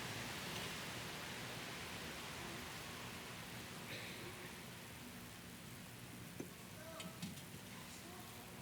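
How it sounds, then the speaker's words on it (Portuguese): Steady rain falling outdoors on a morning, a dense continuous hiss throughout with a few faint scattered knocks and drips near the end, no voices. "É chuva hoje, é verdade."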